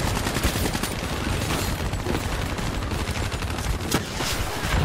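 Rapid automatic gunfire in the video game Black Ops 3, dense bursts of shots rattling almost continuously at moderate loudness, with a few sharper louder cracks standing out.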